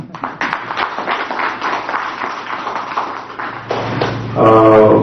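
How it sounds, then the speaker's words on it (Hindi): Audience applause at a gathering with revered saints at a Russian Culture Centre, a burst of scattered hand claps and taps that swells louder toward the end over a steady low hum. "आपके लिए तालियां हो जाए"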